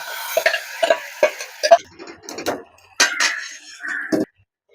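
Cooked cowpeas with green chilli are tossed and stirred in a pan, with intermittent scraping strokes and soft sizzle bursts, close and fairly loud, separated by short pauses.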